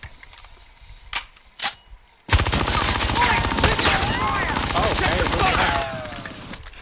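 Shooter video game gunfire: two isolated shots, then a long rapid automatic burst of rattling fire for several seconds, loud and close, with a voice over it.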